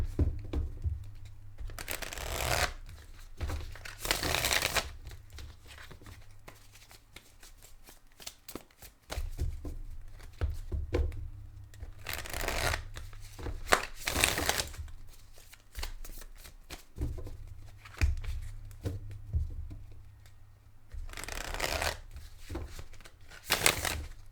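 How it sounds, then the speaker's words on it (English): Tarot cards being shuffled by hand in repeated bursts of riffling and flicking, close and fairly quiet, separated by pauses of soft handling noise. "Shuffling for the Leo"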